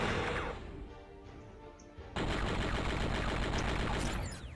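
Rapid video game gunfire from Crazy Flasher 5: Andy Law, a dense stream of loud shots and impacts in bursts, quieter briefly then resuming at full intensity, with no voice.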